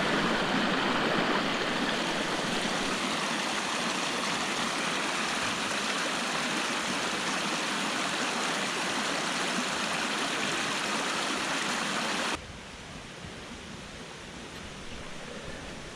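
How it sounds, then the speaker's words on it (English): A babbling brook in Fairy Glen at Appley Bridge, a continuous rushing, bubbling wash of water heard close and steady, dropping abruptly to a softer trickle near the end, with no talking. "You can hear the sounds of the babbling brook."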